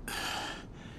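A video game character in Lost Light, out of stamina, lets out a single sharp, breathy gasp or pant that fades within about a second, close and alone.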